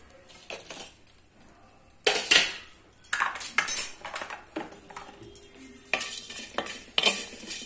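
Garlic cloves dry-roasting in a pan without oil are stirred with a metal spoon, giving loud scraping and clattering strokes in quick bursts after a quiet start, with a light sizzle underneath and no talking.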